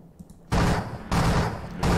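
Artillery strikes landing on T-34 tanks in the Panzer Campaigns Kharkov 43 wargame: three loud, booming blasts, each a broad rumbling burst, spaced about half a second to a second apart, with no talk.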